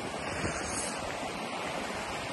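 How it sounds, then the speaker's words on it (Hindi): Rain-swollen water rushes and gurgles at Gulma near Siliguri in wet weather, a steady broadband flow heard alone, fairly faint and continuous. "पानी जो है भर चुकी है, छल छल छल छल कर रही है"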